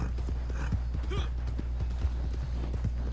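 Horse hooves clip-clop steadily in Red Dead Redemption 2 Online, a regular trotting rhythm of light, close impacts over a constant low game hum, with no talking.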